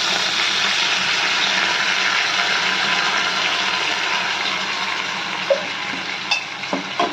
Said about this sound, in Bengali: এবার আমরা পেস্ট করা মশলাটা দিয়ে দিচ্ছি